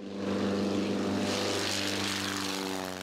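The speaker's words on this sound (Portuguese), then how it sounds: "Quando o K-51 decola" A K-51 propeller airplane takes off with a loud, steady engine-and-propeller drone full of layered harmonic tones, sustained and close throughout.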